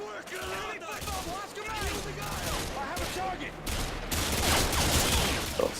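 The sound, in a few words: gunfire in video game Modern Warfare 2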